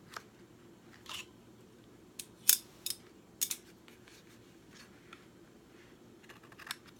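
Scissors snip through ribbon or lace trim on a handmade Valentine's Day mail envelope, a few sharp isolated cuts scattered across a quiet room with long pauses between them.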